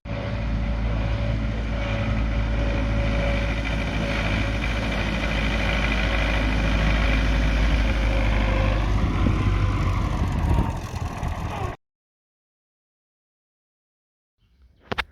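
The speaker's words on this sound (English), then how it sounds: "we're gonna use a much smaller tractor and a smaller cultivator" A small farm tractor engine idles in a steady low rumble for about twelve seconds, then cuts off into silence, followed by a faint brief knock near the end.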